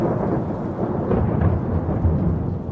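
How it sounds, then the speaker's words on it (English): Deep thunder rolls continuously on a cold stormy night, a loud, close, rumbling swell with no pauses and no voices over it. "Thunder rolls through the heavens like a demon. I can't abide the noise"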